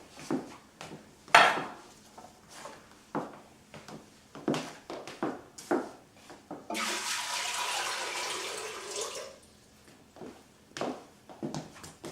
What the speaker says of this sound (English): we have to put the water in the pot with the chicken